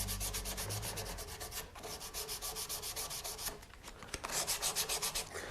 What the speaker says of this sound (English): Okay, once I'm done with that, I can move right into the sandpaper. The first one I'm going to use is a 320.